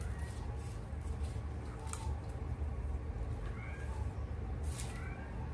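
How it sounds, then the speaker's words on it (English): A house cat meows a few times in the background, faint short calls from another room under steady indoor room noise during fall dining room decorating. "If you hear my cat in the background,"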